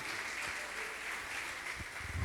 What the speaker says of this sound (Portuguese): as palmas glorificam o Senhor Jesus mais uma vez